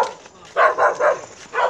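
Several dogs bark intensely and aggressively from behind a gate, a near, loud burst of rapid barks in quick repeated bursts with a brief pause between.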